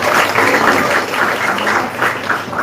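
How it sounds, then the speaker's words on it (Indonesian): An audience at a speech during a 2024 presidential candidate dialogue event applauds, giving dense, sustained clapping that stays loud and even throughout, without any talk over it. "Boleh tepuk tangan."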